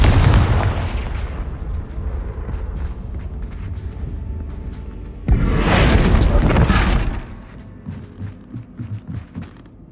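The Confringo fire-blast spell goes off in the video game Hogwarts Legacy. Rumbling booms build, then a sudden loud burst erupts about midway and fades into scattered crackling impacts.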